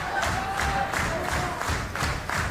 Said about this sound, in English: you can hear how badly the crowd want Aries and Danielson to win